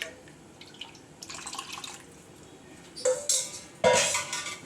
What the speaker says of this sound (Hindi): थोड़ा पानी और ऐड कर देती हूँ।